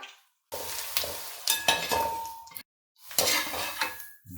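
Finely chopped ginger and garlic fry in sesame oil, making a loud close sizzle in two bursts separated by short silent breaks, with occasional metal clinks of a spoon against the pan.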